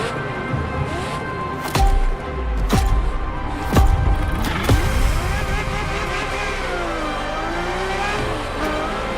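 A Ferrari F50 in The Crew Motorfest revs and accelerates loudly, with sharp gear-change bursts and rising, falling engine pitch over a sustained close drone.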